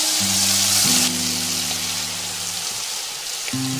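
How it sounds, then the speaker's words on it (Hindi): Chicken fries in hot oil in a kadhai with a steady, dense crackling sizzle heard up close, while a tonal melody plays over it, stops briefly and then returns. "तेल गर्म है और चिकन को फ्राई करना है"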